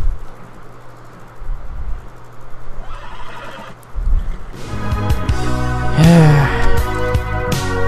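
A horse in the video game Red Dead Online whinnies loudly near the end, a long wavering neigh after quieter rustling and a few hoof clops, with game ambience underneath.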